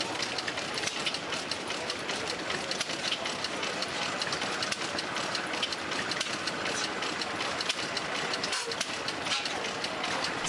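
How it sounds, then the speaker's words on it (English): Early twin-cylinder V2 motorcycle engine, hand-cranked, running with a steady dense chugging rumble throughout, loud and close with no pauses. "the motor responded with the characteristic chug and rumble of an early twin,"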